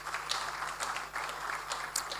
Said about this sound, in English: Let's clap for them as they come.